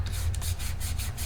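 Cardstock is rubbed down firmly on a bakery treat box being assembled, giving a short, close, steady scraping and rubbing sound.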